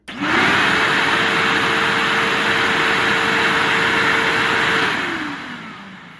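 A Bissell 89Q9 lift-off vacuum cleaner switching on with its dirt cup removed, rising fast to a steady loud whine and airflow roar, then winding down near the end as it shuts off.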